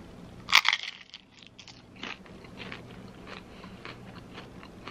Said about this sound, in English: That crunch on that chip though.